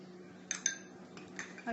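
A utensil spreads cucumber filling onto a slice of bread, giving a few faint scraping clicks and light clinks, close and quiet.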